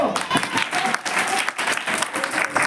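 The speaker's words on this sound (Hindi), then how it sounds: "एक बार तालियां बजा दो बच्चों" Children clapping together in applause for a guest at a Republic Day school celebration, a dense, steady patter of many small hands that fills the whole stretch, fairly close, with faint voices mixed in.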